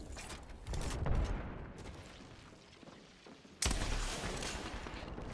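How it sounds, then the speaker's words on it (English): Grenades going off during a firefight in the shooter game Apex Legends: a burst of booming blasts and gunfire, then a second loud detonation partway through, close and heavy with no voices. "I throw some nades, hoping to deal some damage."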